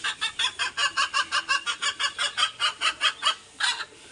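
Eight young chickens, four rooster chicks and four hen chicks, cluck close by in a quick, steady run of repeated calls.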